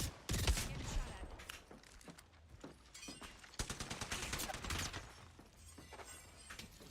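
Rapid bursts of gunfire aimed at the player in a video game, loud and close, with sharp cracks and breaking impacts scattered through the stretch amid busy game noise.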